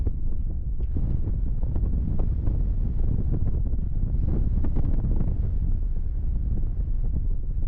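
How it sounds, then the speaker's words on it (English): Strong wind blows across the top of Edom Hill in the Coachella Valley during a Yamaha TW200 motorcycle ride, a loud steady roar buffeting the microphone with no break. "We got some wind up here."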